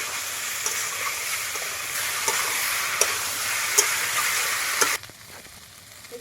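Cumin powder, ginger-garlic paste, chilli powder and green chilli paste sauté in a pan. A steady, loud sizzle carries regular clicks of stirring, then drops abruptly to a quieter hiss near the end.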